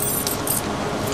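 Keys jangle in a continuous metallic rattle throughout the short stretch during a heated domestic argument, fairly close with no talk over it.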